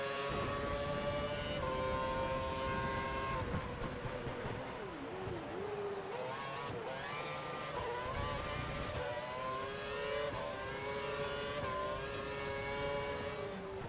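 Formula 1 race car engines in the F1 2012 racing video game during a final-lap championship race, a steady high-pitched engine whine with shifting revs and gear changes, loud and continuous throughout with no talk.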